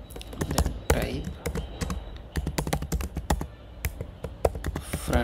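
Fast, irregular clacking of computer keyboard keys close by, bursts of keystrokes with short pauses, under a quiet voice at times.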